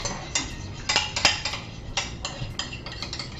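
Spoon stirring a salmon burger mixture with a pinch of horseradish in a bowl, a quick series of clinks and scrapes against the bowl, close and fairly quiet.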